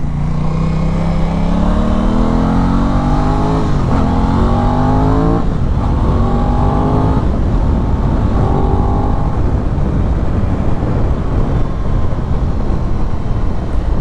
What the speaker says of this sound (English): it's so funny that this bike has dual exhaust at the bottom.